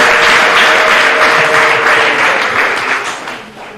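Guests at a Rwandan wedding burst into loud, dense applause close by, sustained for several seconds before thinning and fading toward the end.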